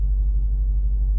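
A 2010 Lexus IS F with a new ECU tune cruising on the road, heard from inside as a steady, heavy low engine and road rumble with no voices.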